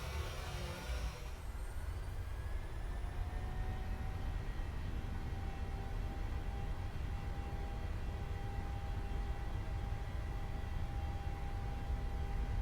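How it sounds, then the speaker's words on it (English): Boeing 737 jet engines spooled to takeoff power on runway 26 left in a flight simulator, a loud steady roar with a rising whine, continuous and close throughout the roll. "we've just been cleared for takeoff on runway 26 left"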